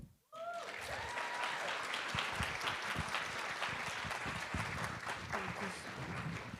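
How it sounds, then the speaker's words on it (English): Warm applause from the audience at a Women in Games event, starting abruptly after a brief silence and continuing as a full, steady clapping crowd, with a few voices and cheers mixed in. "Can we get another round of applause for everybody?"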